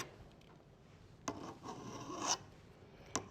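A file rasps along the edge of a garden tool blade, giving a gritty rubbing stroke that swells for about a second and ends in a sharp scrape, followed by a brief second stroke, close and moderately loud.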